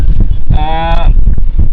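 A single loud bull low, drawn out for about half a second amid background crowd noise and chatter at a bullock-cart race ground in Pedgaon.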